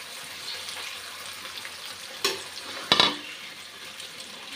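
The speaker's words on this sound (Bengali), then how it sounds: "মশলাটা খুব ভালোভাবে কষিয়ে নিয়েছি। এখন মাছটা দিয়ে দিচ্ছি।" Pabda fish going into a pan of well-fried spice paste, giving a steady broad sizzle with two sharp louder bursts as the pieces land, close by and with no talking.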